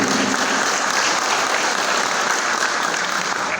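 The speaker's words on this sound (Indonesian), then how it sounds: "Boleh kita apresiasi, kasih tepuk tangan dulu untuk Kang Teddy." Dense, loud audience applause at a sharing session, a continuous even wash of many hands clapping at close range throughout, with no break.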